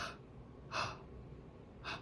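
Sharp, breathy gasps, two or three short intakes of air spaced about a second apart, close and fairly quiet with no speech around them.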